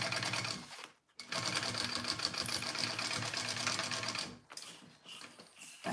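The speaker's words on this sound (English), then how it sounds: "So I'm basting my exterior first." A sewing machine bastes the exterior of a bowler bag in long, steady bursts of rapid stitching, with a brief pause early on and a softer, broken run of stitches toward the end.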